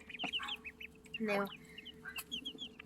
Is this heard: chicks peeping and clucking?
yes